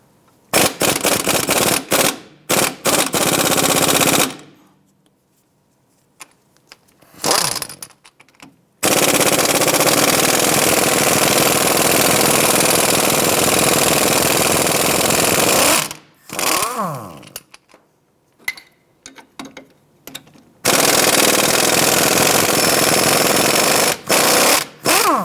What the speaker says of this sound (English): Using an 18mm socket and 18mm wrench, let's go ahead and remove the two strut bolts right here.